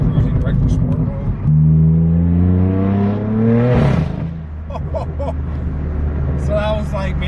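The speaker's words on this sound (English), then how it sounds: "Once you get closer to full throttle in this thing, the exhaust really opens up" A straight-piped BMW M4 (F82) revs up loudly under acceleration with a rising, raspy exhaust note, then drops off as it shifts, close by and continuous.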